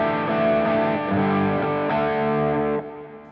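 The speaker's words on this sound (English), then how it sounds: "Here's the Dover drive." Electric guitar through a Dover drive overdrive pedal into an already driven amp: thick, distorted sustained chords that shift a few times and then fade slightly at the end, loud and alone.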